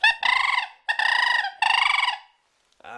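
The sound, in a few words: crane call blown to imitate cranes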